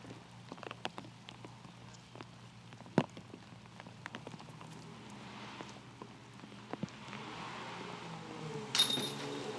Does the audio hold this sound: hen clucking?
no